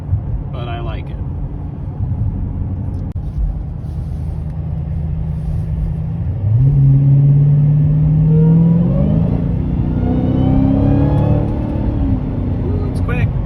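A V8 wide-body car idles with a deep rumble, then revs and accelerates hard from about midway, its engine note climbing steadily and loud close by, with brief voices near the start.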